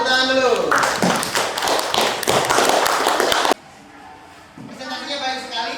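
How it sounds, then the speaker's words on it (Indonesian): A classroom group claps after a student presentation, a burst of close, uneven clapping and tapping that stops abruptly, followed by a brief lull and then a voice speaking. "Kasih tepuk tangan dulu."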